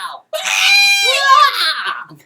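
A loud, shrill, strained scream rises and wavers for about two seconds, close up and alone after a brief silence.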